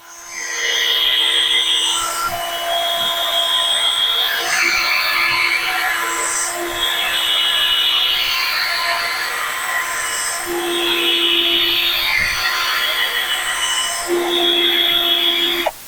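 An electric polisher buffs a boat hull with compound, giving a steady whirring drone with a faint hum underneath and a few slight changes in pitch as the pad moves, running continuously with no voices.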